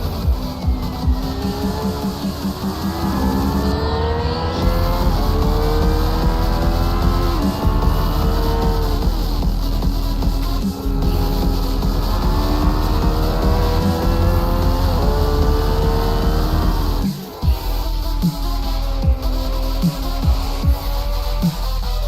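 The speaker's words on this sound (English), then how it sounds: "Last car on track." GT3 race cars lap a track in a racing game during a sim-racing Italian Grand Prix round, engines roaring loud and sustained with rising and falling revs through gear changes and a brief dip near the end.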